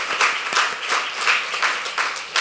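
A crowd claps steadily at a church ordination service, hands pattering together with small swells in loudness throughout.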